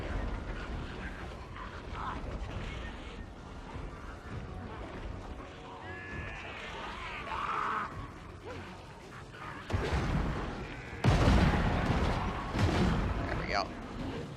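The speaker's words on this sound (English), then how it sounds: "Poisoned wind mortar." Battle noise from a Total War fantasy game with a Skaven poisoned wind mortar: muffled artillery thumps and heavy impacts, plus horse whinnies and a commentator's voice over the din.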